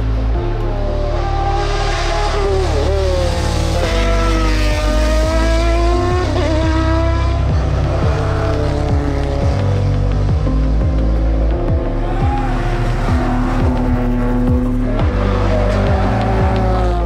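A loud racing car with a large naturally aspirated engine roars continuously at the Puig Major hill climb in Mallorca, revving up and down through gear changes with a harsh, throaty note, close by and alone.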